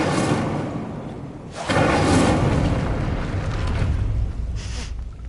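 An Incendio fire spell cast in the Hogwarts video game, a whooshing, roaring burst of flame that swells suddenly and rumbles on for several seconds before fading.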